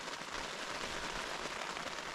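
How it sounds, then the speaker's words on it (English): Rain falling on a wild camp at the Wheelstones on Derwent Edge in the Peak District, a dense, steady patter of drops on a nearby surface, soft and even with no voices. "I'd much rather it rain now than when we're walking"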